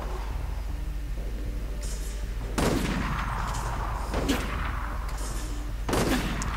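Sniper rifle fire in Resident Evil: Operation Raccoon City, with a few heavy shots standing out over a constant low game rumble, the loudest near the middle and at the end.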